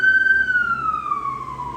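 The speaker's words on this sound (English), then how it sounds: "Notice the siren, huh?" A single loud emergency vehicle siren holds a steady tone and then drops in pitch as it passes close by, heard on its own without talk.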